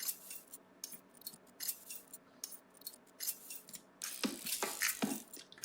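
A percussion loop from a music production track, faint and quiet: crisp, scissor-like clicks and snips in a loose repeating pattern, busier and louder toward the end, with no voice.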